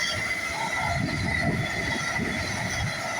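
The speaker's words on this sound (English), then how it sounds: "Here we've got a passing train here." An LNER Azuma Class 800 train, unit 800-108, passes at a station, a continuous rumbling roar with faint wheel squeal, rising and falling slightly and heard alone without talk.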